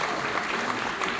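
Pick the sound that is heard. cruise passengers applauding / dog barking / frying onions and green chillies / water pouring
cruise passengers applauding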